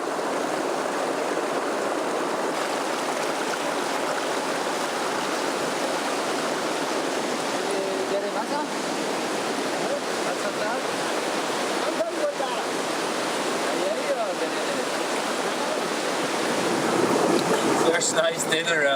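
River water on the Karnali in Nepal, flowing in a steady, broad hiss and rush that stays constant and close throughout, with slight swells near the end.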